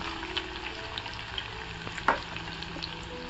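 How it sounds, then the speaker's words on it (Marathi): Chopped onion and green chillies fry in a pan with a steady close sizzle, soft stirring clinks and one sharper scrape partway through. "कांदा छान असा परतून घ्यायचा"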